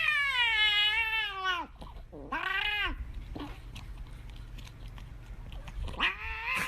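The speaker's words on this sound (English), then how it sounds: "Here is a cat that really sounds like he was possessed by Satan himself." A cat yowls and caterwauls over its treat in long, wavering, drawn-out wails, close and loud, three separate howls with quieter chewing-like noises between them.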